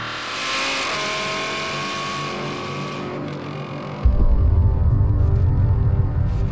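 Audi R8 V10 Plus engine revving and accelerating on a Top Gear test drive, a rising engine note building up, then a louder, closer rumble with heavy low-end roar kicking in partway through, with no talking.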